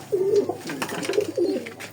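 A pigeon coos close by in two soft, low throaty phrases over a quiet background.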